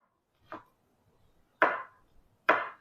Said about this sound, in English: It's always hard to chop with gloves on, so be careful, don't chop the gloves off.